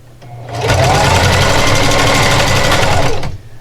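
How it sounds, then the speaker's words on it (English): A sewing machine runs steadily for about three seconds, stitching a fabric seam with a quarter-inch allowance and backstitching at the start, loud and close with a fast, even mechanical whir and no talking. "I'm going to backstitch a couple times here in the beginning."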